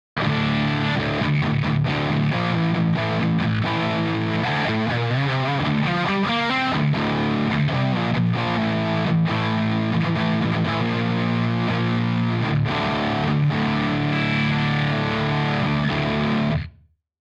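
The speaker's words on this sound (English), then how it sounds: "now that I've got the noise gate set and the distortion on maximum, let's try it again" Heavily distorted electric guitar plays chords and riffs for about sixteen seconds, thick and saturated, then cuts off sharply to silence as a gate closes.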